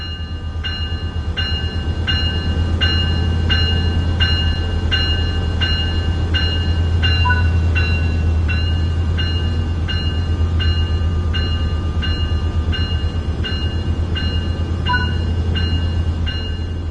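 A Train Simulator 5 train on PS4 rumbles steadily while a regular clacking beat of wheels over rail joints repeats throughout, with a brief tonal chime now and then.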